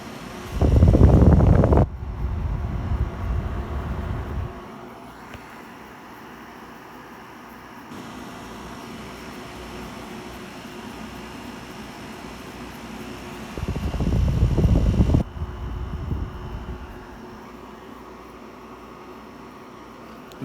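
An RCA 5000 BTU window air conditioner runs on a warm afternoon with a steady broadband whoosh of blowing air. Louder bursts of rushing air come near the start and again past the midpoint.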